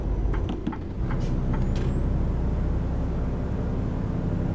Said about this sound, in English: I hit the brakes rather hard there